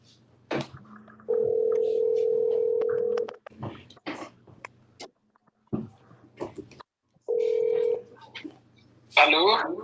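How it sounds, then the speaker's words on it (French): A telephone call rings out, with two long steady ring tones separated by a pause, close and clear, surrounded by scattered speech and handling noises. "Je pense qu'on va continuer au téléphone."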